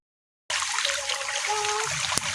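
Water trickling and splashing in a clear mountain stream, starting abruptly after a short silence and running as a steady close bright rush with a small knock near the end.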